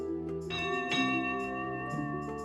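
A steam locomotive's bell from a British engine that went to America, fitted there with a chime whistle and cowcatcher, rings with a sustained metallic tone and overlapping harmonics, struck again about every half second, alone and close.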